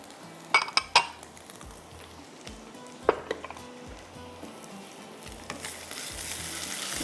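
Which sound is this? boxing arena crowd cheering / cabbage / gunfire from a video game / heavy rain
cabbage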